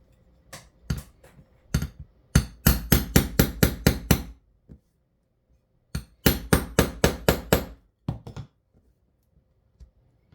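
A hole punch is hammered into leather for a bag, ringing out as two close bursts of rapid, sharp metallic blows with a few scattered single taps between them.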